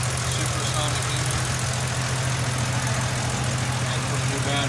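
The supersonic engine of a restored 1951 Frazer Vagabond sedan idles steadily and closely, a low, even rumble with a faint ticking texture, running on a 6-volt electrical system.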